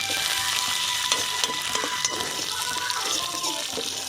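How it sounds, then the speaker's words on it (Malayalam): Mustard seeds, onion and curry leaves fry in oil for a tempering, giving a steady close sizzle broken by sharp pops and stirring clicks, without talk. "അങ്ങനെ നമ്മുടെ കടുക് വറക്കൽ ഇവിടെ പൂർത്തിയായിരിക്കുകയാണ്"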